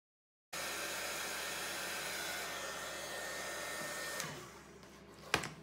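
A hair dryer blows steadily on a craft collage, running as a loud, continuous whoosh for several seconds before cutting off, followed by a couple of faint handling clicks.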